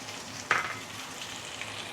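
Egg added to a hot pan while cooking fried mee sua gives a short sudden sizzle that starts partway through, then fades into a steady, quiet background crackle of frying.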